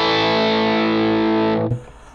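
Electric guitar core tone through a Line 6 Helix with low and high cuts set: a single sustained, harmonically rich chord ringing out for about a second and a half before being abruptly cut off.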